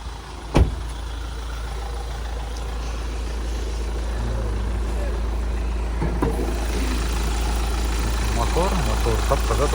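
A turbocharged car engine idles in a steady low drone, with a sharp knock near the start and people talking over it.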